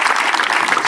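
Loud, dense audience applause at a church gathering, steady claps filling the whole moment without a break.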